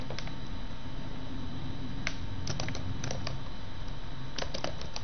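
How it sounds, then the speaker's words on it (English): Clicks of a computer keyboard as someone types a CAPTCHA during a Twitter login setup, sparse irregular keystrokes over a steady background hiss. "And then I have to type in this CAPTCHA here."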